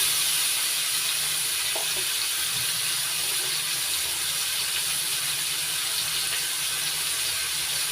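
Prawns, rubbed with salt and turmeric, sizzle in a wok: a steady broad hiss of frying oil with a few faint clinks from the pan underneath, constant and close throughout.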